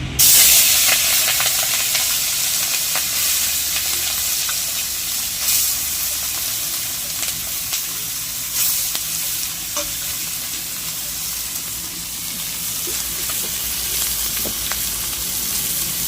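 Small chuna fish frying in a hot kadhai give a loud, close, continuous hiss and sizzle that starts strong and eases slightly, with occasional stirring clicks and no talk.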